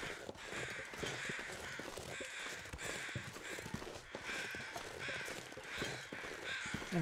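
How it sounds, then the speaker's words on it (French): A flock of crows caws from all sides in the survival video game The Long Dark, dense overlapping harsh calls repeating continuously over a steady windy background, loud and close throughout. "Corbeaux de tous les côtés."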